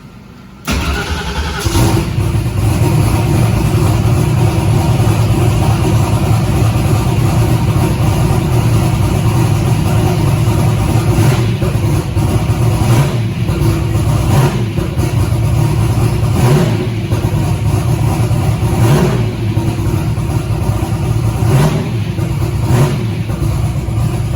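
A car engine runs steadily close by, idling with a rough rumble and rising into a few revs along the way.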